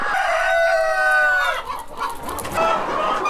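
Farm chickens kept on a poultry farm sound off up close: a rooster's long, loud crow opens, followed by a busy chorus of clucking hens filling the rest of the moment.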